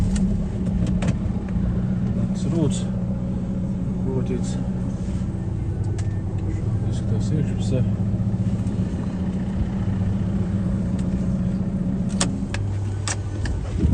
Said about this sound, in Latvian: iedarbināšu automašīnu